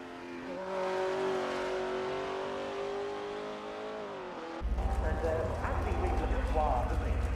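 A race car engine on its out lap in Assetto Corsa at the 1960s Princen Park Long circuit: a steady droning engine tone shifting pitch slightly, then a rougher, buzzier engine note, with someone talking over it throughout.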